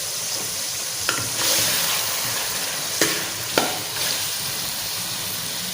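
Tomato, ginger and garlic sizzle and fry in a pan for chicken handi masala, a steady close crackle broken by a few sharp stirring scrapes, no talking.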